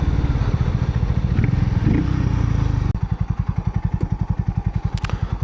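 A Harley-Davidson X440T motorcycle's exhaust rumbles up close and loud, first as a dense steady roar and then as a slower, distinctly pulsing idle thump with separate beats.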